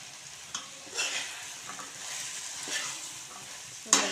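Moringa drumstick pods sizzle in a hot pan as they are fried for a curry, with steady frying hiss and scattered scrapes and clinks of stirring, close by with no talk.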